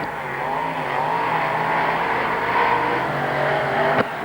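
V8 dirt modified race cars roar around a dirt track during a night shootout, a loud sustained engine blare from close by with a sharp bang near the end.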